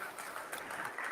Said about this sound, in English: And a big hand of applause to you guys for being here.